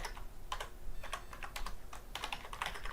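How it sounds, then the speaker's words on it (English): Rapid keystrokes on a computer keyboard as a street address is entered, a steady run of close, crisp clicks with brief pauses, no voice over them. "I just type in any address"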